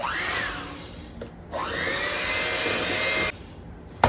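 Cake batter with vanilla and a quarter cup of oil whirring under an electric mixer, a steady motor drone in two long runs with a short pause between and a clunk at the end, no talking.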